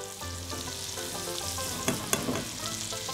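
Meat frying in a pan for a Turkish-style dish, a steady broadband sizzle with a few sharper pops and crackles near the middle, close and continuous, while a low hum sits underneath.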